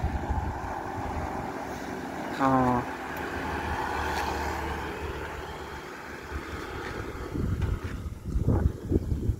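Strong wind buffets and rumbles across the microphone in gusts, with brief speech and a short exclamation.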